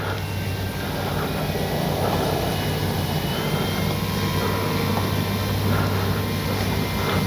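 A Durafly Slowpoke RC model airplane with a big wide wing flies its maiden flight, its electric motor giving a steady, continuous whine and drone that holds evenly throughout.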